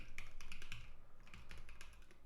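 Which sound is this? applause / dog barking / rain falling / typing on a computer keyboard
typing on a computer keyboard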